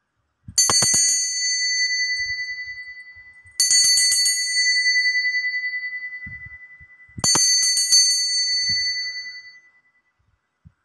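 Three clear metallic bell dings, each ringing out and slowly decaying, spaced a few seconds apart with near silence between.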